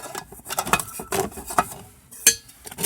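Lid of a small Dutch oven pan clinking and scraping against metal while a kit is packed away, several short, close, light knocks and rattles.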